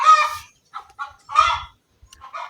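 Laying hens on a poultry farm give loud, close squawking and clucking calls in short bursts separated by brief silences, with no talk.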